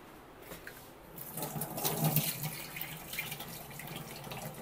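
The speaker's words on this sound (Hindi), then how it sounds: "हाथ धो लेती हूँ," Water runs from a tap while someone washes their hands, a steady close splashing stream that swells after about a second and continues to the end.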